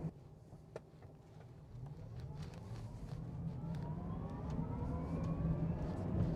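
A Tesla Cybertruck in chill mode rolls along winter roads, its steady tyre and road roar slowly swelling as it picks up speed, with a faint whine rising through the drive.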